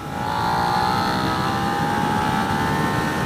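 A 2017 Suzuki SV650 motorcycle in third gear drones loudly and steadily, its engine and intake sound holding an even, smooth pitch that climbs slightly throughout.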